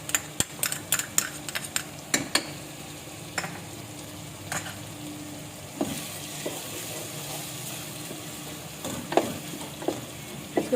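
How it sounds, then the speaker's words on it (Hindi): Ginger and garlic fry in a pan over softened tomatoes for a white chana biryani, a continuous close sizzle punctuated by rapid clicking spatula strokes early on and occasional scrapes later. "ये देखें ये अदरक लहसुन थोड़ा भुन गया है।"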